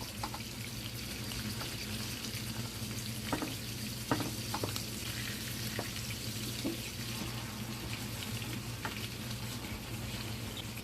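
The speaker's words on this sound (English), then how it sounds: "Now I'm going to flip it over after 2 minutes and let the other side cook." Jerk-seasoned salmon fries in a pan with a steady, close sizzle and crackle, broken by a few sharp clicks and spatters as it cooks on its second side.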